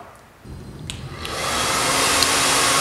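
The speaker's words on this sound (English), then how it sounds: "As you blow dry, make sure you aim the blow dryer carefully toward the ends." A handheld hair dryer blow-drying hair, starting with a short low rumble before the motor ramps up into a loud, steady close-range whoosh of rushing air that keeps building.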